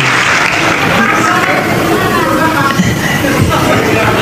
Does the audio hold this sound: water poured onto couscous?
no